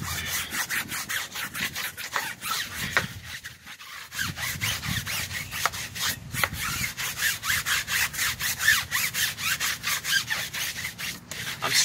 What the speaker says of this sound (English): I'm scrubbing. I'm trying to do my best to get some browning to come off.